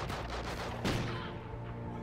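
Video game gunfire in an online shooter match, a dense barrage of shots with a heavier burst near the middle, loud and close, continuing over a noisy background.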